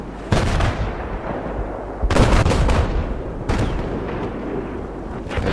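Gunfire in a team shooter video game as players fire at each other: three loud bursts of heavy shots, each ringing out and decaying, with no talk over them.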